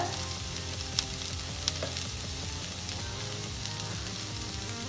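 Onions and green peas fry in a pan for a karunai kilangu (elephant yam) cutlet, giving a steady, close sizzle with a couple of sharp clicks from stirring and no talking.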